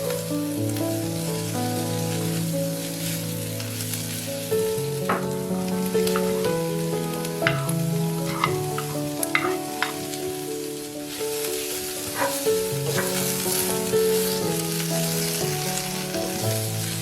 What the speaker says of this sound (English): stir fry everything for a couple of minutes